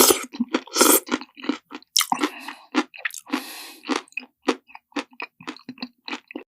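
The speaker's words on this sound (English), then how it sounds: "AI generated video of Will Smith eating spaghetti" Wet, squishy chewing and slurping of spaghetti close to the ear, AI-generated, in quick irregular bursts with short pauses, loud and unaccompanied by speech.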